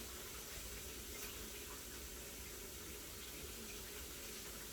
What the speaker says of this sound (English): Peel them under running water